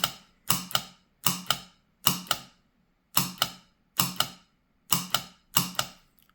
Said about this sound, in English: But for now, here's a solenoid in action.